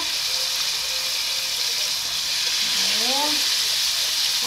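Food frying in a preheated pan while cooking plov, a steady broad sizzling hiss running throughout, close and fairly loud, with a brief clatter and faint voice partway through.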